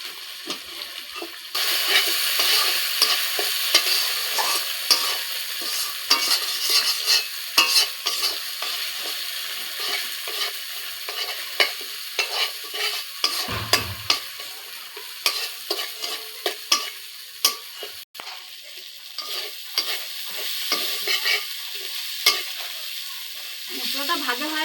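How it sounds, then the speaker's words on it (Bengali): A spatula repeatedly scrapes and stirs spices with turmeric and Kashmiri chili powder frying in a pan, close, rhythmic clatter over a constant sizzle, with a brief low thud midway. "কাশ্মীরি লঙ্কার গুঁড়া দিয়ে নেড়ে চেড়ে তারপর ঝোল দিয়ে দিন।"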